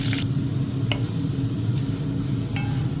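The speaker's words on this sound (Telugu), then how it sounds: "ఒక చిన్న సైజు ఎర్రగడ్డ కట్ చేసుకొని వేసుకోవాలి కరివేపాకు వేసి బాగా అంతా వేగనివ్వాలి" Onion and curry leaves fry in a pan for bendakaya pulusu, giving a steady low sizzle with a few soft stirring scrapes and clicks, close and continuous with no talking.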